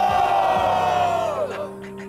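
A live show audience roars and cheers loudly in a sustained swell of voices that tapers off near the end.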